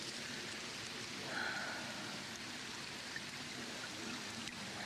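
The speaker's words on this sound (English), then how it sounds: "It's starting to rain." Rain beginning to fall outdoors as a soft, steady hiss of drops on surfaces, faint and even throughout with no talking.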